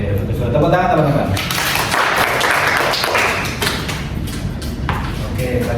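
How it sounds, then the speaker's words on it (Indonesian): A small group in a counseling session claps hands, a brief patter of claps mixed with voices and room noise that thins out after a few seconds. "Tepuk tangan teman-teman."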